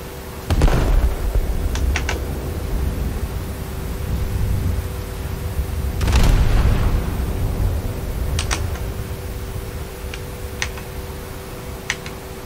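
Main guns of the IJN Ikoma battlecruiser fire in War Thunder naval combat, two heavy booming salvos several seconds apart over a steady low rumble, with sharp ticking clicks in between.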